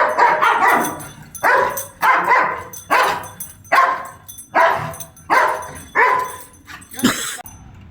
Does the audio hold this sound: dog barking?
yes